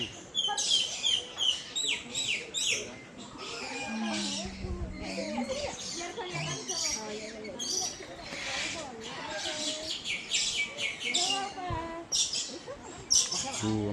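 Birds chirp, squawk and call all around in a bird park in Bali, busy overlapping cries close by, with people talking through them.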